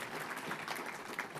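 Audience applause at an award dinner, a steady spread of clapping from a seated crowd, moderately loud and continuous without a break.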